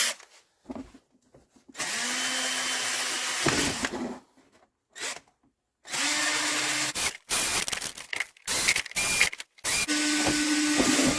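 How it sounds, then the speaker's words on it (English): A power drill runs in repeated bursts, whirring loudly then stopping, with short pauses and clicks between each run, while working on a Dodge with a no-crank, no-start starter relay fault. "Here's what I'm going to drill."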